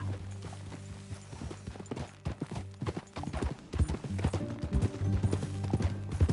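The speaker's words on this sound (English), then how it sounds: "That a new horse?" Horse hooves clip-clop steadily in Red Dead Redemption 2, a close, rhythmic trot of game hoofbeats layered over a low musical drone and other game sounds, with no talking.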